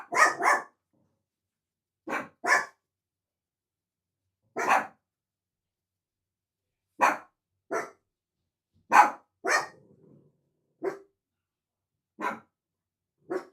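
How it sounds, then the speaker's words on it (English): Dogs bark in short, sharp bursts, single and doubled, spread irregularly through an otherwise quiet room, fairly close and loud, with no talking over them. "sometimes my dogs start barking in my videos"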